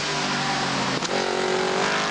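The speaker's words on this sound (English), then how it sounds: "Cars coming out onto Heat 2." TVR race cars heading out for a heat at a circuit, loud steady engine roar with a rising tonal whine as a car passes close, continuous and dominant.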